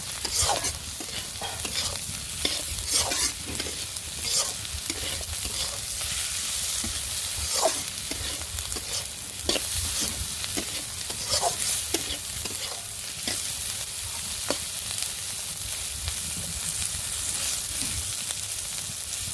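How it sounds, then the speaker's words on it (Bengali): Shrimp fry in oil with onion, ginger-garlic paste and cumin paste, a continuous close sizzle broken by repeated scraping stirs of a spoon against the pan, steady throughout with no talking. "পেঁয়াজ, আদা রসুন বাটা, জিরা বাটা সব কিছু মশলার সাথে দিয়ে ভেজে নিচ্ছি"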